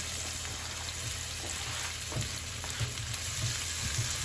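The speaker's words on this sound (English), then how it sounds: "Put my onions in, get that nice sizzle." Onions sizzle steadily in a hot frying pan, a dense crackling hiss with occasional soft pops and stirring sounds close by.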